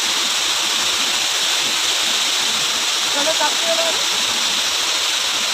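A steady, broad rush of falling water from a waterfall on Ajodhya Hill, Purulia, fills the scene from start to finish, with a faint voice briefly audible partway through.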